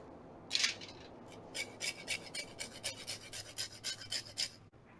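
Key limes rubbed against a zester in a rapid series of soft, scratchy rasping strokes, close and fairly quiet, with no voices.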